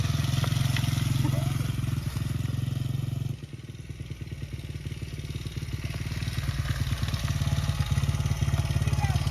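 A Honda CRF100F dirt bike's engine runs steadily, dips briefly, then revs up loud and close as the bike pulls away in first gear, with its rhythmic exhaust chatter filling the clip.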